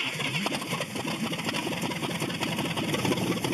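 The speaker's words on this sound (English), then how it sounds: "it's alive, it's a runner. It's making noise, sounds like a boat." An old car engine, just brought back to running after sitting in a barn, idles with a steady, rough, boat-like drone and no pauses.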